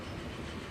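Freight train box cars in the video game Archipelago clatter steadily over the rails, a dense, continuous rolling rumble with no voices.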